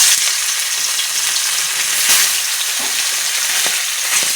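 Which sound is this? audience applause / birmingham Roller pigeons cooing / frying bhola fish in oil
frying bhola fish in oil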